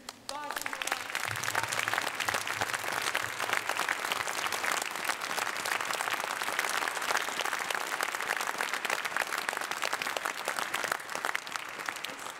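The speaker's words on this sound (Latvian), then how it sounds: "es vēlētos izmantot dienesta stāvokli un palūgt aplausus Zbrojnim silam Ukraini" Sustained applause from a concert audience at a choir's Christmas concert, a dense steady clapping that fills the whole stretch at an even level with no talk over it.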